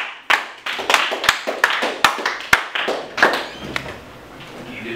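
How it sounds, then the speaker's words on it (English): A small group claps for a presenter after a club or class meeting, scattered hand claps in an uneven, sparse patter that thins out toward the end. "Everyone give him a round of applause."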